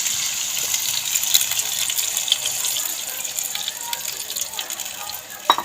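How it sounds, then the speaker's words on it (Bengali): Water is poured into a pan of frying hilsa fish in a mustard and eggplant curry, making a steady splashing gush over the sizzle, close and continuous. "মাছটা এপিট ওপিট করে মোটামুটি আমার কষানো হয়ে গেছে এবার আমি জল দিয়ে দেবো"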